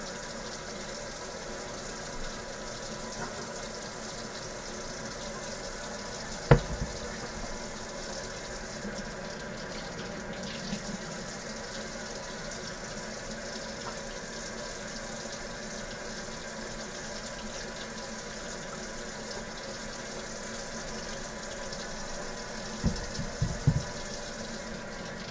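Tap water runs steadily into a kitchen sink while potatoes are washed, a constant faint flow with a few soft knocks and handling sounds near the end.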